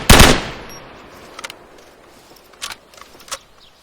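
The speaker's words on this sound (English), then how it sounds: "you can hear like shells hitting the ground, like a little clang sound" Spent bullet casings clanging on the ground in the IFA3WarMod video game: a loud burst of gunfire at the start, then a few small, sharp metallic tinks scattered over the next few seconds.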